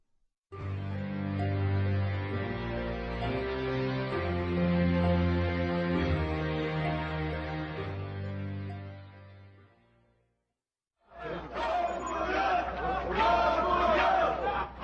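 Residents cheering for South Korea's president-elect Roh Moo-hyun on his first morning after the election, a sustained crowd roar with chanting voices, then a short pause before another burst of cheering.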